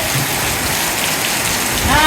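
Heavy rain pours down steadily close by, a dense, unbroken hiss of drops striking surfaces with no pauses across the short stretch.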